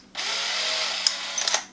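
A power drill spins a 5/8 drill bit while assembling a DIY kit float valve, a steady whirring whine lasting over a second, close and loud, with a few brief clicks near the end.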